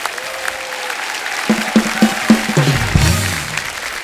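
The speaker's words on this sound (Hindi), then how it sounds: "एक बार हमारे मेहमानों के लिए जोरदार तालियां हो जाएं" A studio audience on The Kapil Sharma Show applauds loudly and steadily, with bursts of clapping and some tonal sounds rising over it partway through.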